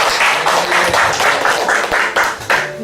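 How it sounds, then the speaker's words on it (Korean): Clapping at a Sunday church service rings out in distinct, fairly regular bursts of hands, close and loud, with a rhythmic pulse to the strikes. "박수 한번 해주세요"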